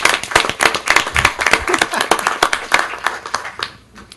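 An audience claps for Virgil Hernandez at a commission meeting, loud and close with dense, uneven hand strikes for about three and a half seconds before fading out.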